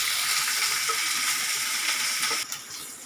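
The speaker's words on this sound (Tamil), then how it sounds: "இப்போ வெங்காயம் கருவேப்பிலை போட்டுடலாங்க கொஞ்சம் வதங்கிட்டோம்" Onion and curry leaves sauté in a pan with a steady, moderately loud sizzle that drops off suddenly near the end, and no voices are heard.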